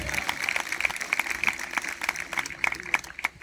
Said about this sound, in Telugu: నా యేసుకి చప్పట్లు కొట్టాలి బిగ్గరగా.